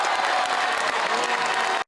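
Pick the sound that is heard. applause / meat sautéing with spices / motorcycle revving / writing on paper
applause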